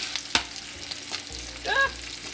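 Eggs sizzle steadily in a hot frying pan, with the yolks broken while they cook and a few brief scraping and stirring clinks over the constant frying hiss.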